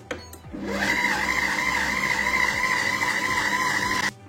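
A Compact Cook multicooker with its lid on runs at speed 4, starting with a click and then holding a steady, loud motor whine with a blending churn for about three and a half seconds before cutting off abruptly.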